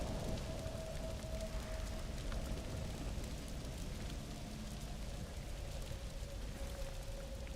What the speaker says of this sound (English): Oh, it's raining. Very localized rain